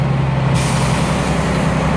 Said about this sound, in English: checking the brake for leak, the brakes have to be released